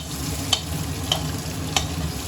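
Vegetable stir-fry for homemade Chinese fried rice and noodles tossed in hot oil in a pan, with steady sizzling broken by three sharp scraping strokes of the spatula at even intervals, close and moderately loud, with no talking.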